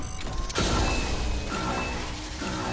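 A mech being wrecked in Fortnite gives off loud continuous mechanical creaking and grinding with metallic scraping, a sharp burst of impact about half a second in, then sustained clanking and rumbling to the end, with no talk.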